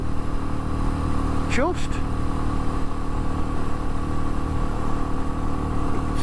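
A Royal Enfield Meteor 350 holds full throttle on a climb, its single-cylinder engine a loud, constant drone with wind rush, while a rider speaks over it.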